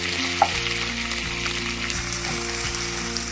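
Chopped onions frying in olive oil in a pan for shahi paneer, a steady close sizzle with a faint crackle near the start and no voices.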